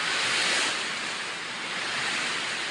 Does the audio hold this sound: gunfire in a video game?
no